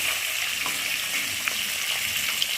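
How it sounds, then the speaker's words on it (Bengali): Pieces of silver carp, including the large head, sizzle in hot oil with a steady, close frying hiss and a few faint pops and crackles. "আর এখন 3 পিস রয়েছে, সেটাকেও ভেজে নিচ্ছি"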